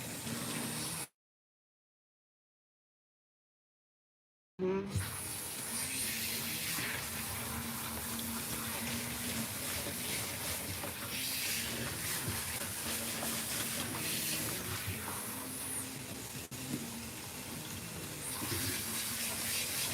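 Water runs steadily from a tap while a Maine Coon cat is rinsed in a bath, a continuous close hiss and splash that cuts out briefly near the start and then resumes at a constant level.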